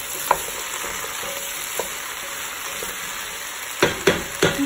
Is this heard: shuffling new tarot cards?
no